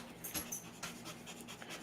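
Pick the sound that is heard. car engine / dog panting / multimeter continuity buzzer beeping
dog panting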